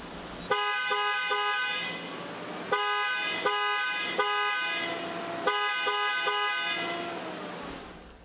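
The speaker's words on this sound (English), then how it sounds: "All the installed heat alarm alert systems will activate for about 5 seconds." A Hot-N-Pop Pro heat alarm alert system sounds during a system test: loud tonal horn-like beeps in repeated patterns of short pulses and longer held tones, cycling three times.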